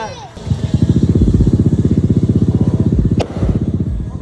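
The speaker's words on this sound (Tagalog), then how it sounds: "Sasakyan motor, pinapaandar." A motorcycle engine idles with a rapid, even putter, loud and close, with a brief sharp clatter near the end.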